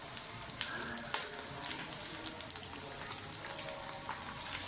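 Whole cumin seeds sizzling in hot oil with garlic and ginger, a soft steady frying hiss with small pops and crackles, close and fairly quiet, no voices.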